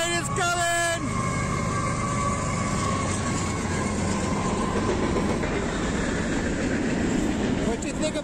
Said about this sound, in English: The train is coming!